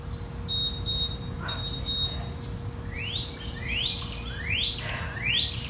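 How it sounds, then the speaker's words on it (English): Outdoor birds give repeated rising chirps and whistles over steady background noise, joined early on by a few short electronic beeps. "I don't know if you can hear it over the birds."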